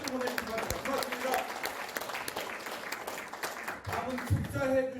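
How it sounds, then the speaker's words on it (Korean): Applause from the audience at a parliamentary debate on abolishing lawmakers' privileges, steady clapping throughout with voices mixed in underneath. "박수 보내주시기 바랍니다"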